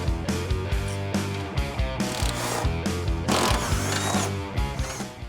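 A ratchet works loose the exhaust hangers under a 2016 Mustang GT, with repeated bursts of quick metallic clicking, close and loud, broken by short pauses between strokes.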